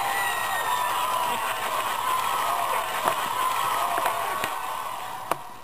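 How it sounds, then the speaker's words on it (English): Applause and crowd noise from a talk show audience greeting a departing guest, a continuous wash of clapping with a few sharper claps standing out, fairly even in loudness and tapering slightly at the end. "Let's give one last round of applause for our guest"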